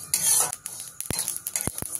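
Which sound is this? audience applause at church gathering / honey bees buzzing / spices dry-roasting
spices dry-roasting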